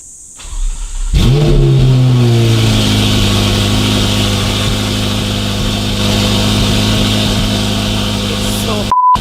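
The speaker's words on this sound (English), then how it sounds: "And let's do a cold start." Modified Ferrari 488 Pista with a race exhaust firing up from cold, a loud bark settling into a rough, booming idle with rising revs, close and continuous for several seconds with no talking.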